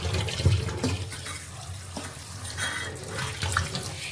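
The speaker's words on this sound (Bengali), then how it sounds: "আর এখানে শোল মাছ ধোয়া হচ্ছে।" Tap water runs steadily into a sink while snakehead fish are washed, a continuous close splashing rush with no one talking.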